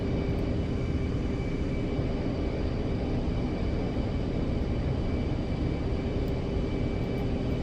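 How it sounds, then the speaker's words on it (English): A large airplane, Air Force One, flies nearby in the DCS flight simulator, its engines making a loud, continuous broadband roar with a steady hum and no pauses. "Damn, that is a big airplane."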